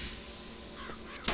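A crow caws in the video game Bioshock Infinite, a short harsh call rising near the end over a steady game ambience, heard alone without talk.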